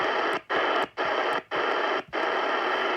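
A Sony ICF-SW100 shortwave radio gives a dense hiss of static with a barely discernible station buried in it, cut by four short dropouts in a pulsing rhythm, steady and fairly loud throughout.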